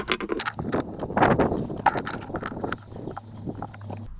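Gear shift cable bushing being screwed into place on a 2005 Toyota, giving a close series of irregular mechanical clicks, ratcheting taps and plastic scrapes at a steady working pace.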